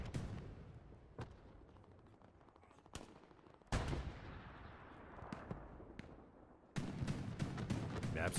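Shotgun and other gunfire in the console video game Hell Let Loose during a competitive match, with several sharp, separate blasts and heavier bursts over a quiet background.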